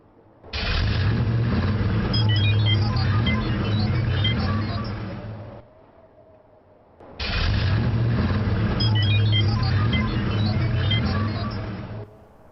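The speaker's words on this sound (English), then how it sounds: "it's gonna sound like the car from Back to the Future" Time-travel car from Back to the Future in The Simpsons: Tapped Out, tied to Time Traveler Frink: two identical loud, rumbling, whooshing bursts of about five seconds each, separated by a short low hum.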